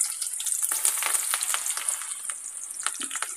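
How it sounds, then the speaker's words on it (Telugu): Meal maker pakodas frying in hot oil in a kadai on medium flame, a bright hissing crackle with bursts of popping bubbles, close and continuous without pause. "నూనె కాగిన తర్వాత ఇందులోకి ఈ పకోడీలు వేసేసుకోవాలి"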